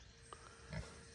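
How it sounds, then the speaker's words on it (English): Pigs grunt softly in a muddy pen on a homestead, a few faint low snorts and oinks over a hissy background. "The pigs really do like to eat all of the grass"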